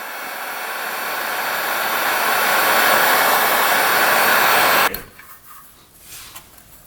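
A heat gun blows hot air onto a brittle fuel line on a 1970s two-stroke mini bike, a close, loud rushing hiss that swells for about five seconds and then cuts off, leaving quiet shop noise.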